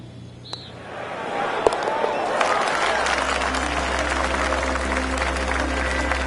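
A golf gallery bursts into applause after an eagle attempt in a PGA Tour video game, clapping rising from near quiet into sustained steady applause under a low hum.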